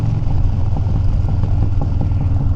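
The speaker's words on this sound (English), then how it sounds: "Oh, I love that backfiring." A Harley-Davidson Dyna motorcycle engine runs loud and close in a steady rumbling clatter, with small irregular pops scattered through the idle.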